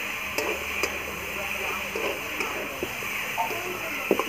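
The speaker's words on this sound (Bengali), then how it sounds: "ভালোভাবে কষে নেবো।" Malabar spinach (pui shak) being stir-fried and reduced down in a pan, giving a steady low sizzle broken by occasional soft stirring clicks, close and continuous, with no talking.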